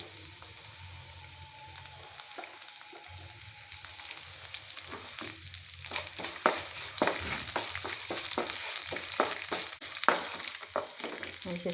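Ginger, garlic and curry leaves fry in a pan for a beerakai pachadi, making a close, steady sizzle broken by scraping bursts of stirring that grow busier partway through.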